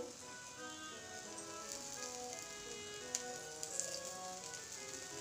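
Oil sizzles steadily on a hot tawa as an aloo methi paratha fries, a faint, even hiss with a couple of small pops and no talking.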